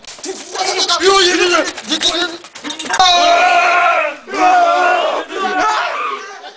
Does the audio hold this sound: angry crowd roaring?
yes